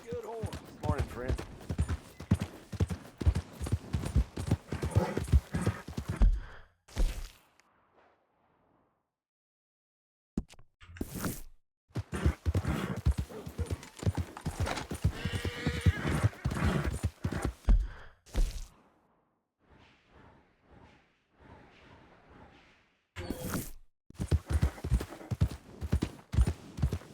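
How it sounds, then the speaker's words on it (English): Horse hooves clip-clop in Red Dead Redemption 2 as a rider moves through town, steady hoof falls under stretches of character dialogue, broken by brief quiet gaps. "That's a good horse."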